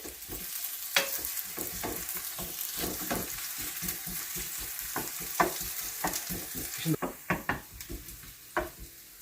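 Onions fry in a pan for protein pulao, cooked on a large stove, giving a continuous sizzle broken by sharp, irregular scraping and stirring taps that grow busier toward the end.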